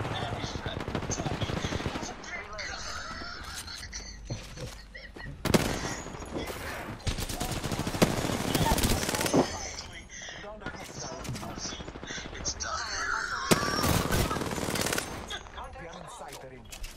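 Rapid automatic gunfire and bursts of shots in the battle-royale game Apex Legends, dense and loud for most of the stretch with brief lulls, while players talk over the action.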